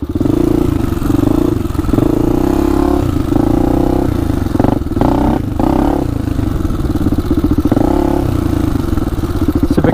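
A Honda 400ex ATV with a 416cc big bore and a stage 2 Hotcams camshaft revs hard in second gear. The engine note is loud and close, holding a steady roar throughout with brief dips and surges.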